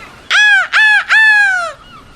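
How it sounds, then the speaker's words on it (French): A seagull cries three times in quick succession, loud and close, each call a harsh drawn-out squawk, with a faint trailing note after. "Un matin, la mouette lui crie"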